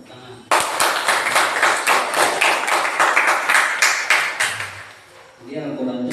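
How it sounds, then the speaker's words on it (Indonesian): A classroom audience at a teacher certification exam in Banjarmasin claps together, a loud burst of rapid, steady clapping that runs for several seconds before fading, with a voice coming in at the end. "Kita berikan tepuk tangan."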